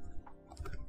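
Short burst of computer keyboard keystrokes as a terminal command is typed, several quick clicks close to the microphone, quiet and without speech.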